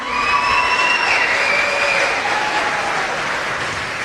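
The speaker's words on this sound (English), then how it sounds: "Let's give a round of applause to our brave little helpers this evening" A crowd applauds for the young helpers at the Berkeley County Youth Fair, a steady wash of clapping with some cheering, while faint squealing tones drift through the background.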